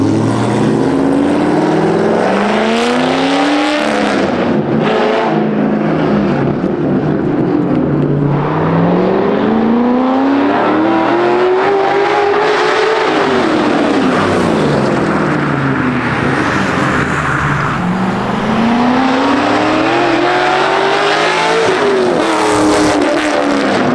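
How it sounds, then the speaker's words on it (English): A Corvette Z06 with a straight-piped, heavily modified exhaust and no plates drives along, engine roaring loudly and continuously while the revs repeatedly swell and fall for the whole stretch. "No plates and a heavily modified exhaust."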